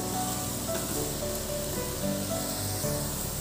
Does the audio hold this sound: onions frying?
yes